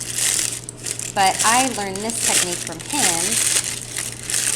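Parchment paper crinkles and crunches steadily as it is crumpled by hand in a kitchen while a person speaks over it, the rustling continuing loud and close throughout.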